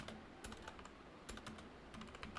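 Typing a message on a computer keyboard produces quiet, quick clusters of key clicks with short pauses between them, close but faint.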